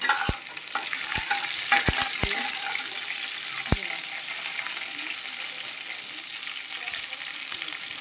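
Garlic, curry leaves and green chillies frying with cooked rice in a pan, giving a steady close hiss of sizzling oil with a few sharp clicks of a spoon stirring against the pan.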